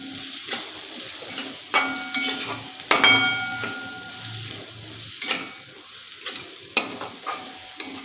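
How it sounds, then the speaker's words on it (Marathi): Spices for a capsicum curry, including bedgi chili powder, garam masala and a pinch of asafoetida, fry in a pan with a soft sizzle, broken by repeated close scraping strokes of a spoon against the metal. "आता हे सर्व मसाले आहेत ते चांगले परतून घ्यायचे आहे"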